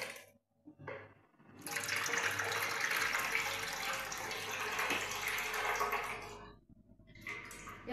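Water pours from a tap in a loud, steady stream for about five seconds and then shuts off, with quieter pauses before and after.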